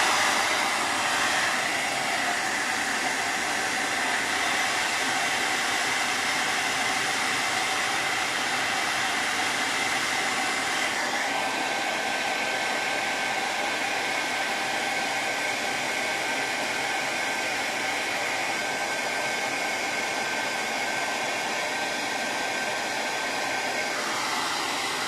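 A hair dryer blows steadily over a painting, a close, continuous airy whir with a slight shift in tone partway through and no talk.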